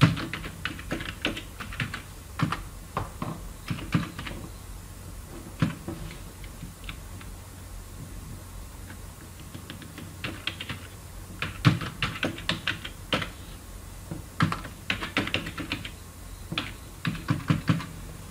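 Keys clatter on a computer keyboard as an address is typed into a word processor, bursts of quick taps separated by short pauses, close and crisp with no talking.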